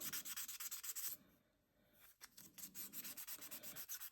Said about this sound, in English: if you need to do more work with your sandpapering to really get it nice and smooth